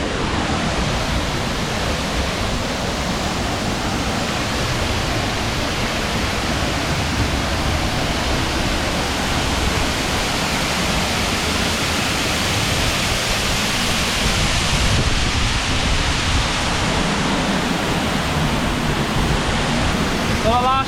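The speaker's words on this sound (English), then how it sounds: "you can actually walk across to the other side behind the waterfall" Waterfall on the Four Falls Trail in the Brecon Beacons, heard from close by behind the falling water during low flow: a steady, dense roar of rushing water, loud and unbroken throughout.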